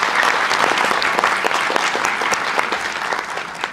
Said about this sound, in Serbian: tako da aplauz posvetim